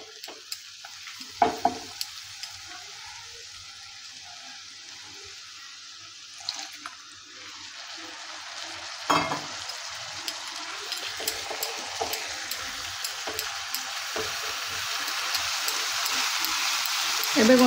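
Chicken and masala fry in a pan with a broad, steady sizzle that grows louder toward the end, punctuated by occasional stirring scrapes and clinks.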